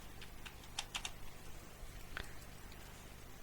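A computer keyboard is typed on quietly during 3D modeling work, with a short cluster of light key clicks early on and a single later tap over steady background hiss.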